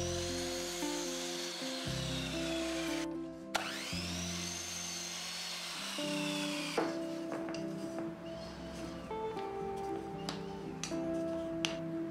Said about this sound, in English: Cut plywood with angle 45 degrees.